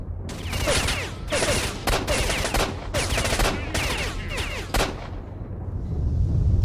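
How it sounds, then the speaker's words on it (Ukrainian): Rapid gunfire in the video game S.T.A.L.K.E.R.: Shadow of Chernobyl, dense loud bursts of shots in quick succession with brief gaps, over a constant game ambience that continues after the firing stops. "Я от стріляю йому в голову чи куди я йому стріляю."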